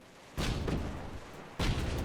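Aerial torpedoes launch and explode in the airship battle game Airships: Conquer the Skies. Two heavy, booming blasts come a little over a second apart, each followed by a rumbling wash of noise, with no voices.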